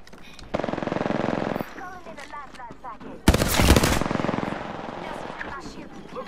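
Rapid automatic gunfire rattles in an Apex Legends fight, a steady burst early on followed by a louder, harsher volley midway, with character voice lines and game effects between.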